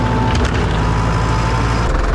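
A tractor-driven flail mulcher runs steadily nearby with a loud, dense grinding roar and splintering crunches as it breaks up material in a field.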